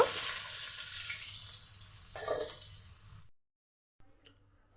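Potatoes frying in oil with turmeric, a loud, steady hiss and crackle that fades out before a brief near-silence, followed by a few faint scattered clicks.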